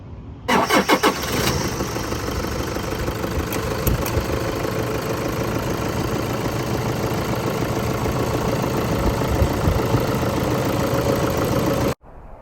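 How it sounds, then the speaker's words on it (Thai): A Toyota Fortuner SUV engine cranks and catches with a few sharp bursts, then settles into a steady, loud idle that runs evenly until cutting off at the end. "ต่อไปเดี๋ยวเรามาฟังเสียงเครื่องยนต์กันนะครับ"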